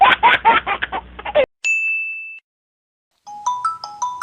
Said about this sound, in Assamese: এই জানমণিয়ে ফোন কৰিছে।